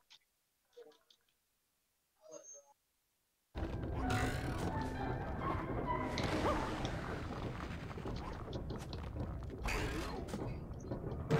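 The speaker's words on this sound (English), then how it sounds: "This elevator will take us up to Rainbow Falls, shall we?" In the Epic Mickey 2 video game, a mechanical elevator starts after brief silence and game voice blips, then creaks and rattles continuously with clanking gear-like knocks, loud and busy to the end.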